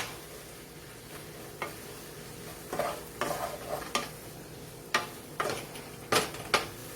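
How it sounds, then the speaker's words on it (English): Homemade taco seasoning being stirred into cooking beef for a Mexican beef casserole, a soft low sizzle with irregular spoon scrapes and knocks against the pan, sparse at first then more frequent. "Stir that all in."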